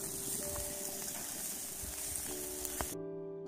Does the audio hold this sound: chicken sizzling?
yes